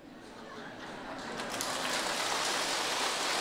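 Rain falls at night as a steady, broad hiss that swells gradually and stays loud and even, with no voices over it.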